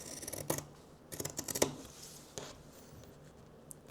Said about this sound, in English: and then I'm going to cut this out